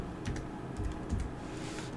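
A few soft keystrokes tapped on a computer keyboard, a short scattered burst heard close under a steady background hiss, with no talking.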